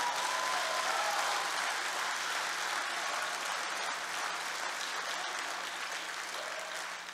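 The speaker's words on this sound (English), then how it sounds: "Clap your hands for manifestation." A church congregation claps hands together during a sermon, producing dense, steady applause that holds loud and continuous throughout and eases slightly toward the end.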